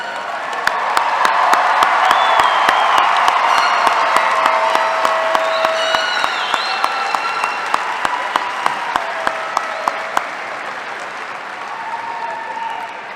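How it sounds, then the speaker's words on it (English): Large audience at a Tennessee Tech University spring commencement ceremony applauds the graduates, a dense, steady wash of clapping in a big hall with a few cheers, fading slightly toward the end. "let's give these graduates one more round of applause"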